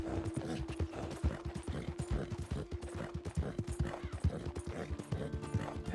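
Horse hooves in the Red Dead Redemption 2 video game, a big Hungarian Halfbred horse walking with a steady, even clip-clop rhythm, faint, with light tack and mechanical clinks mixed in.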